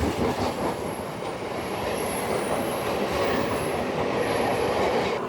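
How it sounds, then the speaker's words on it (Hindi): Maharashtra Sampark Kranti Express pulling out of Borivali station in Mumbai: a steady, loud rumble of rolling wheels and carriages with faint rail squeal above, continuous and close throughout with no talk. "ट्रेन चल दी है।"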